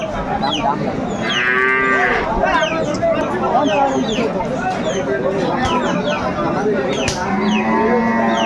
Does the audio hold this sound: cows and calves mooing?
yes